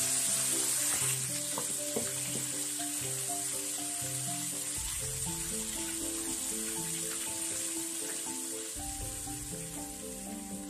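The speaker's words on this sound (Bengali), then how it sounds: "এখন আমি তেলে মশলা গুঁড়ো দিয়ে দিলাম, এটা একটু ফুটে উঠলে আমি সব একে একে মাংস সহ সব মশলা দিয়ে দিব।" Duck meat and ground spices fry in hot oil, a dense, close crackling sizzle that stays steady throughout as the pan is stirred, with cookware clinks and no talking.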